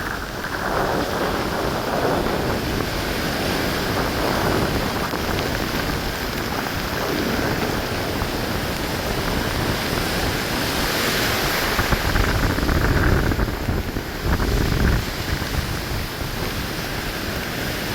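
Relentless sea waves and heavy rain on a coastal shore, a dense, steady roar of surf and downpour with no voices, swelling slightly louder toward the end.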